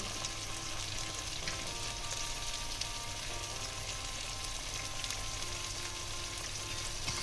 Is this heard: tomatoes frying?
yes